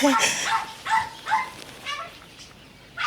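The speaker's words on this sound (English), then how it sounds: "It's a dog." A dog gives a few short barks and yips, with bursts spaced about half a second apart, fairly close, among people talking, apparently inside an airport.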